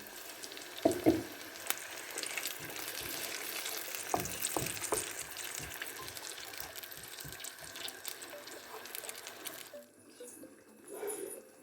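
Tomato paste and water stewing in a pan, soft bubbling and sizzling with scattered clicks and scraping, close but fairly quiet, before the sound drops away near the end.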